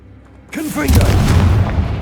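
A Confringo blast spell in the video game Hogwarts Legacy, one heavy booming explosion that erupts suddenly and rumbles on, following a spoken incantation.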